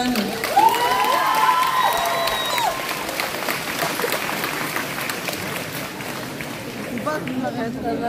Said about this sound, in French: on va faire un tonnerre d'applaudissements